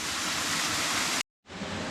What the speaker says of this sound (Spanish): Cascada Doña Elba.